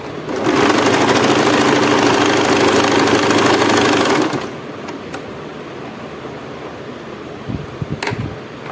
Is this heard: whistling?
no